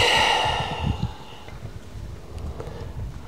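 A person taking a long audible breath and exhaling during a vagus nerve energy exercise, close to the microphone, followed by quieter breathing.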